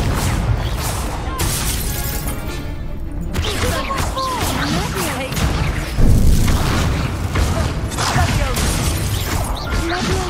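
A fire spell cast in a Hogwarts video game, with a burst of whooshing, crackling and booming impacts over a busy, layered game soundscape, growing louder toward the end.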